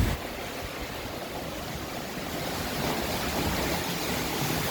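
Water rushes continuously over the waterfall and rapids at the EPCOT Canada pavilion, a steady broadband roar with no voices heard.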